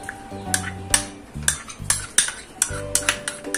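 Spoon clinks and scrapes steadily around a bowl while a paste is stirred into food for a simple Pakistani rice dish. Soft background music plays underneath.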